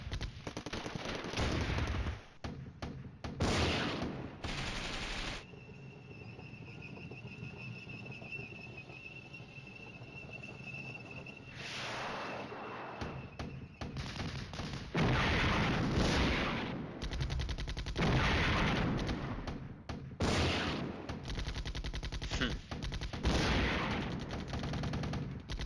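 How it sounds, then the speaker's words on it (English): Mortar fire in the wargame Flashpoint Campaigns: Red Storm booms in repeated loud bursts of explosions. A high whistling tone drifts through a quieter stretch in the middle before the heavy barrage resumes. "Those mortars are just beating tar out of that place"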